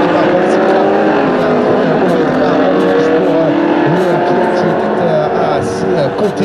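Race cars at the start of a race in the 2018 Coupe d'Auvergne roar together in a loud, dense engine drone, their pitches rising as they accelerate under commentary.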